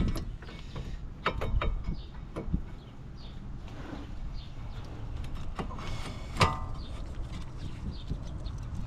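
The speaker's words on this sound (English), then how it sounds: "Now we'll get our caliper and caliper bracket bolts back on." Caliper and caliper bracket bolts being refitted on a 2018 Kia Optima during front driver axle work, with scattered metallic clicks, clanks and ratcheting taps close by over a low background hum, no talking.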